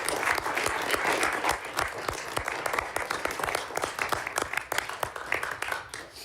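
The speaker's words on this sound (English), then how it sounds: "I think that's worth a round of applause," An audience at a university board committee meeting breaks into applause, a steady, fairly close round of many hands clapping with crisp individual claps standing out throughout.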